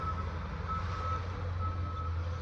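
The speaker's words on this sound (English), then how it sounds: "Sorry about the beeping in the background." A construction vehicle installing a neighbor's front yard sounds steady, evenly spaced reversing beeps over a low engine rumble, continuous throughout and heard from some distance.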